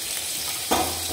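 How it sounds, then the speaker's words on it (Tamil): Onion, tomato and coconut sizzle in a hot pan for chutney, a steady close frying hiss with two short bursts of stirring scrapes. "வெங்காயம் வதங்கிடுச்சு, தக்காளி சேர்த்துடலாம், தேங்காய் சேர்த்துடலாம்"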